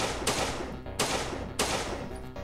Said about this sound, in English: So we've got our nice shooting sound effect working correctly.